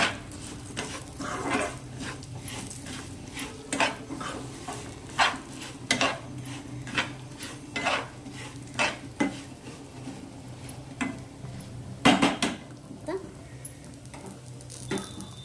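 A spoon scrapes and clatters in a pan as sugar is mixed a little at a time into moong dal halwa, giving repeated sharp knocks and scraping strokes over a low background hum.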